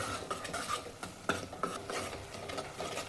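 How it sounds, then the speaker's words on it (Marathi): Masala paste (vatan) roasting in oil while a spoon stirs it, with scraping clinks against the pan over a soft, steady sizzle. No voices are heard. "छान असं तेलामध्ये भाजून घ्यायचे."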